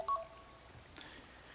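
Telephone dialing tones from a phone during a Minecraft session: a short two-tone beep at the start, then a faint steady tone and a brief second chirp, quiet and alone with no talk.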